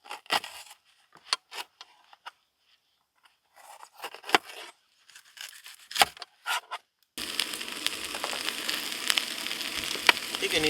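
Food frying in a small pan inside a minivan in Utah: a few sparse clicks and clatters at first, then a dense, steady sizzle that starts abruptly and keeps going close up.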